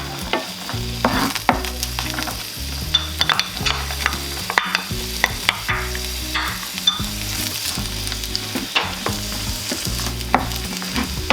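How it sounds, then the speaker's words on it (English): Carrot and onion stir-fried in a pan, a steady close sizzle broken by frequent rhythmic scrapes and knocks of a utensil tossing the vegetables, with no voices. "And you stir fry it for about like 5 minutes until it's soft."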